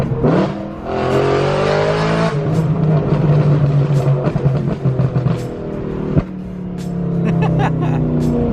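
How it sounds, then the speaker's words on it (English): A sports car accelerates hard through several gears, its engine note rising and dropping with each shift, heard loudly from inside the cabin, with brief voices in between. "This car just sounds too good."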